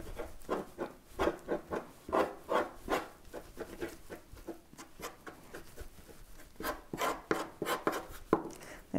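Egg noodle dough being mixed by hand, flour beaten into eggs with a utensil in a bowl, giving a close run of quick rhythmic scraping and tapping strokes that pause briefly midway, then resume.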